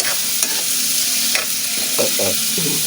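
Chayote and squash frying in a pan, a continuous sizzle broken by several scraping stirs, close and moderately loud, with no talking.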